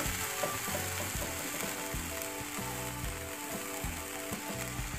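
Chickpea greens bhaji frying in a pan gives off a steady sizzle, with repeated scraping and stirring strokes in a loose rhythm, close up and with no talk.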